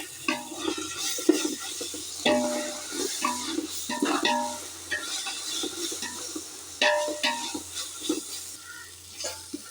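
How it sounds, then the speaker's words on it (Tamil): Ginger garlic paste frying in a pan for vegetable rice, a soft continuous sizzle broken by repeated scraping stirs and clanks from a utensil. "இப்போ வந்து நான் இஞ்சி பூண்டு பேஸ்ட்டு போட்டுக்கிறேன்."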